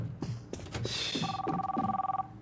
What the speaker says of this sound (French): Le téléphone.